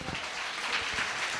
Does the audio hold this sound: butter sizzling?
no